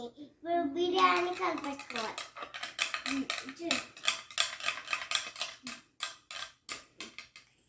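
Chicken biryani being stirred in a pot, with rapid metallic scraping and clinking strokes in a steady rhythm after a voice speaks at the start.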